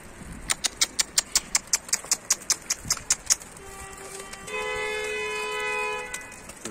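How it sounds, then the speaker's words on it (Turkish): A long sustained car horn blares after a rapid series of sharp repeated clicks, loud and close, with no talking. "Korna çalmanın sırası mıydı şimdi ya?"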